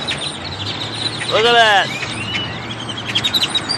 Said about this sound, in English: All these birds are flocking over to Church's Chicken.